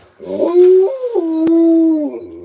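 An 11-month-old puppy named Nunaryak lets out a deep, drawn-out howl, rising then holding a long steady tone with a brief break, close and loud with no talk.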